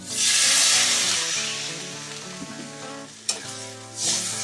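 Water poured into a hot pan while cooking a red katla fish curry with potatoes, loud hissing sizzle bursting up then settling to a softer bubbling crackle, with a clink and a brief second hiss near the end.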